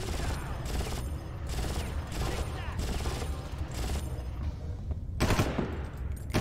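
Bursts of gunfire aimed at the player in Far Cry, repeated rattling volleys spaced at irregular intervals with a louder close burst near the end, under some faint talk.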